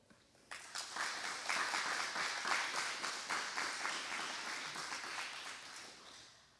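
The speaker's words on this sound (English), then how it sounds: "Let's give them a round of applause to thank them for their time and commitment." Audience at a soccer ministry banquet breaks into applause for the coaches, rising suddenly and then sustained, tapering slowly toward the end.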